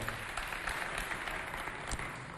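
Faint, distant applause from an audience at a cultural center competition, a soft continuous patter of many hands heard from afar.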